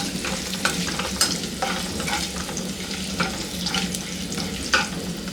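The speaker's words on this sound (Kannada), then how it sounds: "ಗೋಡಂಬಿ ಚೆನ್ನಾಗಿ ಫ್ರೈ ಆಗಬೇಕು." Cashews fry in a pan with a steady sizzle, broken by scraping clinks as they are stirred every second or so; close and fairly loud, with no talking.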